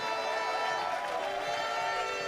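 A baseball crowd at a Germany versus Czech Republic final cheers steadily after an inning-ending strikeout, a dense, continuous roar of many voices at moderate level with no clear breaks.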